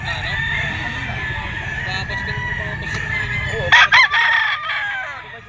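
A bullstag, a young Kelso gamecock, crows loudly and close by in a long drawn-out call, with a harsher burst near the end and a few clucks around it.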